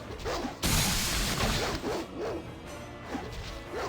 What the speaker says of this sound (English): It's just wild dog.